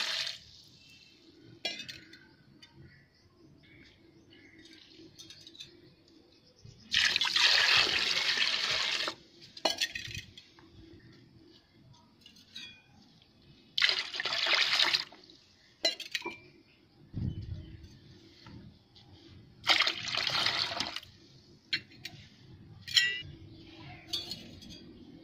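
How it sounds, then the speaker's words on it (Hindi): Water is poured in several short bursts into milk to make kachi lassi, splashing and gurgling into a vessel, loud and close, with quiet clinking between pours and no talk. "चार मग्गे पानी के डाल दें।"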